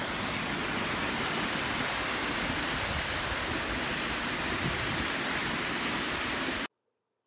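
A continuous broadband roar of water pouring over a low river dam in the town of Saline, Michigan, steady and loud for the whole stretch before cutting off abruptly to silence.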